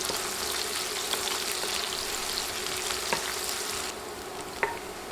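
Two sliced onions fry in a pan for moong dal, stirred until soft, with a close, continuous sizzle and occasional light scrapes and clicks from the stirring.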